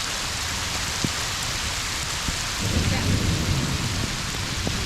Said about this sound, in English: Yeah, it's really raining down.